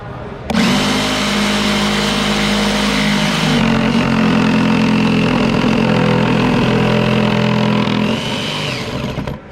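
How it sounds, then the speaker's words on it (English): A Hart orbital sander at its highest speed and orbital setting switches on and runs with a loud, steady high-pitched whine, shifting pitch slightly midway and winding down near the end. "So I've got it set to our highest speed, our highest orbital setting."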